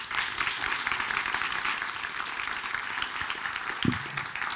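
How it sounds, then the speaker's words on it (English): A conference audience at the GLOBSEC Forum gives a Minister a round of applause on stage: a full, even wash of many hands clapping throughout, with a single low thump near the end. "can we please have a round of applause for the Minister?"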